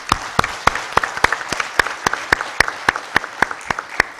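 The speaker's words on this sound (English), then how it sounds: "let's go for a loud round of applause for those who have organized this event." Audience applause for the organizers at a technology and entrepreneurship event, with a few sharp, evenly paced loud claps standing out above a softer crowd clapping.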